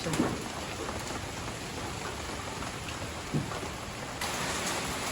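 Heavy rain from Typhoon Pepito in the Philippines pours down in a dense, steady roar, close and continuous, with a couple of brief knocks breaking through the downpour.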